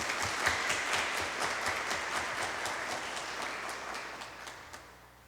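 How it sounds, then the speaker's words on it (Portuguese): Congregation applauding at a Catholic triduum celebration for Saint John the Baptist, a steady wash of many hands clapping that starts full and slowly tapers off, heard alone without talk. "Uma salva de palmas para..."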